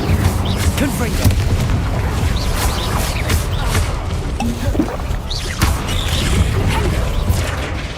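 Fiery Confringo spell blasts in Hogwarts Legacy combat, a dense run of booming impacts and crashes rumbling continuously, with a few sharper hits standing out amid the clatter.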